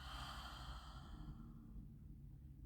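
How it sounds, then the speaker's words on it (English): A long, soft exhale through the mouth during guided yoga breathing, an airy breathy rush that fades away after about a second and a half, heard alone and close. "exhaling completely through your mouth"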